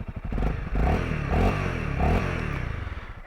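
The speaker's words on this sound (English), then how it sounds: "Oh yeah, you want to hear the exhaust? It's quite nice, actually." A Honda CRF 300 L motorcycle exhaust gives a few short revving bursts, a low pulsing thump that rises and falls several times, close by and fairly quiet, with no talking.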